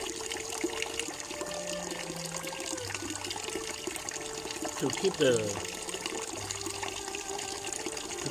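Tap water runs continuously over strips of pork being flushed in a kitchen, a steady trickling stream beneath a person talking, with a brief splashy burst partway through.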